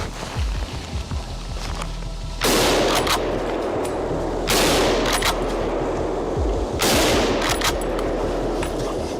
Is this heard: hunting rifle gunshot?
yes